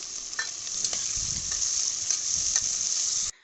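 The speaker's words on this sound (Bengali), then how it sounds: "হালকা ভাজা হলে পেঁয়াজ দিয়ে দিচ্ছি।" Onion hitting hot oil with whole cinnamon, bay leaf, cardamom, black pepper and cloves, a steady close sizzle with a few spoon scrapes and stirs, cutting off abruptly near the end.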